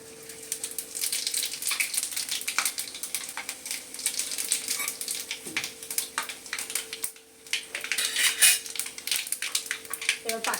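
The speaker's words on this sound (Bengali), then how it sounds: "এবার পাঁচফোড়নটা একটু ভাজা হবে" Panch phoron spices fry in hot oil with bay leaf and dried red chillies, a light crackling sizzle under repeated sharp clinks of a metal spoon against the pan, with no talking.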